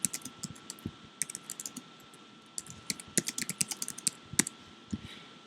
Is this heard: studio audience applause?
no